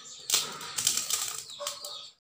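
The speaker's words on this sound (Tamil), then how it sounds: "இப்போ வந்து கோதுமையை தேவையான அளவு கொஞ்சம் கொஞ்சமாக போட்டு நம்ம கிளறிக்கலாம்." Wheat flour being stirred into mashed banana batter in a pot for tea-shop appam, making close, wet slapping and scraping strokes in a quick irregular run that lasts about two seconds.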